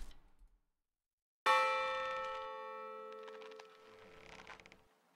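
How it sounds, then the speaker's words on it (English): A single loud bell clang from the Traitors in Salem video game strikes sharply and rings out with a long, slowly fading metallic tone that lasts several seconds. "Just as I hit that bell, Nia died."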